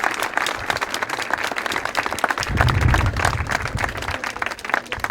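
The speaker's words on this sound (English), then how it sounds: "I think they deserve a big round of applause." Spectators at an Under 21 Division 2 Gaelic football final applaud the Shercock team with a sustained, dense round of clapping from a crowd, steady throughout.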